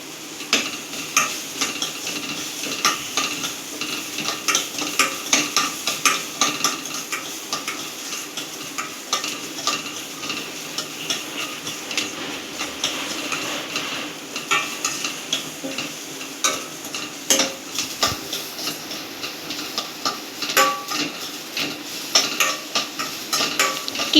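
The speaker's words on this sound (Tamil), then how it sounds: "இப்போ கிண்டி விட்டுட்டுருக்கோம். நல்லா டீப் ஃப்ரை ஆகுது." Onions deep-fry toward golden in hot oil, a dense continuous sizzle with constant rhythmic scraping and clinking of a stirring utensil against the pan, close and fairly loud.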